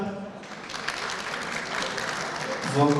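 Audience applause at a municipal consultation meeting with civic groups in Kağıthane, a steady crowd of clapping hands at moderate loudness, with a voice cutting in near the end.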